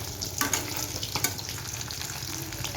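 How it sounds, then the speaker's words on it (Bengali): Fresh koi fish fry in hot oil with a steady close sizzle, broken by a few sharp spits and pops near the start. No one speaks. "এই যে কই মাছগুলো ভাজাও হচ্ছে"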